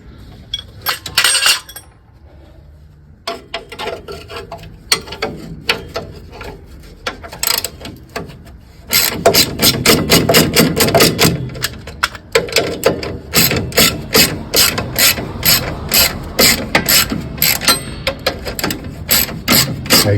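Bolts on an MG front suspension spring pan being loosened with a ratchet spanner, giving rapid metallic clicking and clinking in bursts, close and fairly loud, heavier and denser in the second half.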